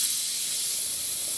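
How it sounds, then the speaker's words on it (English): The steam wand on a Breville espresso machine, just back from service for a heating fault, gives a steady, loud, airy hiss of steam with no pauses. "Good steam, good pressure."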